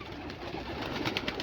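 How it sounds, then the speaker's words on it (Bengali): A large flock of local domestic rock pigeons, about two thousand birds in a loft, coo together as a dense, continuous murmur with a few louder calls rising near the end. "এগুলা সবই গোলা পায়রা, এগুলা বিদেশি পায়রা না"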